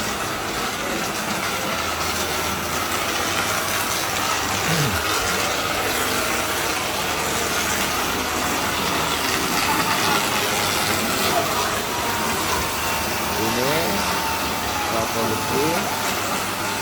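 A newly installed production machine runs continuously in a busy factory during a push for high output, a steady loud mechanical rumble and clatter filling the space, with someone talking over it.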